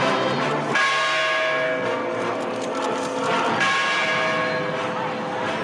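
Balangiga church bells, returned to the Philippines, ring out loud and continuous with sustained metallic tones, their strikes overlapping into a dense wash with steady background ambience.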